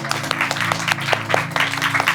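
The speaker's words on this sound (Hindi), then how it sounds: "क्या हम खुदा को ताली बजा सकते हैं?" A church congregation claps in praise, a dense but moderate patter of many hands with a few sharper claps standing out, steady throughout.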